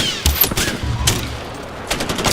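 Rapid automatic gunfire in the video game Far Cry 4, loud and close, with a continuous rattling burst and a few heavier shots over booming low rumble, no talk.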